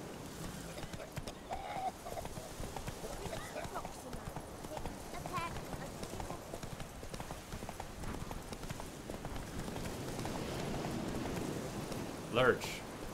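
In The Witcher 3, the horse Roach gallops with a steady rhythmic clip-clop of hooves that runs throughout, moderately close and fairly soft, under someone talking, with a brief whinny-like sound near the end.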